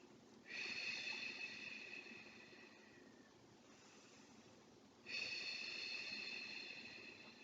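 Slow, deep breaths during a foam rolling self-myofascial release stretch, two long airy exhalations a few seconds apart, soft and close with quiet pauses between.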